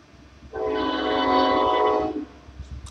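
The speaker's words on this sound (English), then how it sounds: "Pardon the train." A train passes outdoors, sounding a long, loud horn blast of about a second and a half over rumbling rail noise that fades afterward.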